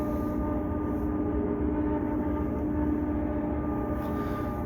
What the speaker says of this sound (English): Noisy train.